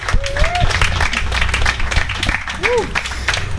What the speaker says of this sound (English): Ooh, round of applause for yourselves, Guzman, and all the team.